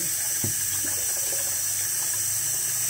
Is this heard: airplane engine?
no